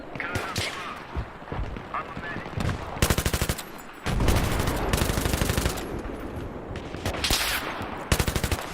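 Machine gun fire in the Battlefield video game: loud, rapid bursts of automatic shots, some short and some sustained for over a second, close and punchy amid other battle noise and explosions.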